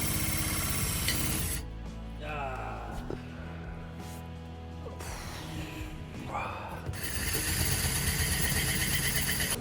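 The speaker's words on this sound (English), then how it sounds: "While we were drilling the hole in the bottom of the jar, it split." Drill boring a hole through the bottom of a glass jar, a continuous loud grinding and whining with rasping scrapes that shift in pitch as the bit bites, running steadily for the whole stretch.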